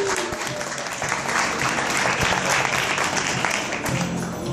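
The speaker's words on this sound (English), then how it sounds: "I think Stacey deserves another round of applause." Steady applause from an audience at a fashion show, continuous dense clapping that holds at an even level for several seconds, fairly close, with no speech over it.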